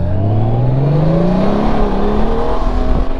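2021 Honda Goldwing DCT motorcycle accelerating hard, its engine tone climbing steadily in pitch, loud and close, with strong wind rush throughout.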